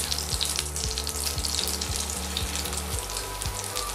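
Veal chop frying in nut-brown garlic butter, a dense continuous sizzle with crackling spatter, loud and close, with no talk.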